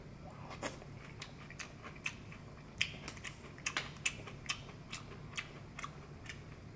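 Soft crunching and chewing of soggy grape-flavored Chex cereal in milk, close to the mouth, with irregular quiet bites and clicks over several seconds and no talking.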